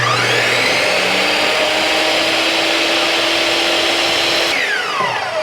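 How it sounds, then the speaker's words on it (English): A miter saw runs continuously and loudly for about five seconds while trimming board ends to even the edges during a van storage build, then the motor cuts out and spins down with a falling whine. No voices are heard. "now I'm going to go ahead and neaten these up on the miter saw right here,"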